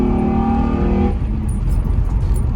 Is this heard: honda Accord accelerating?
yes